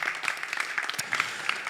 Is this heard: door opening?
no